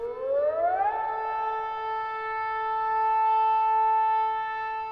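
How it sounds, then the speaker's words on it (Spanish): A siren winds up from a low pitch to a steady, piercing wail that holds for several seconds, with no other sounds. "el agudo sonido de la sirena desgarró el aire"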